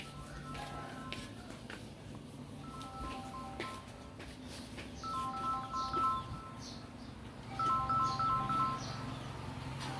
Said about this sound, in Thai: เสียงโทรศัพท์เจ้าของโทรศัพท์ไปไหน